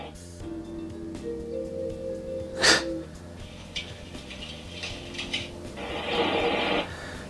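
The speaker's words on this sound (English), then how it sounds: "So that's the sound of a train I've chosen." Pre-recorded train sound effect from a Bluetooth galaxy projector speaker: steady tonal hums like a horn run for a few seconds, a sharp burst near the middle, then a rougher rushing swell toward the end, moderately quiet throughout.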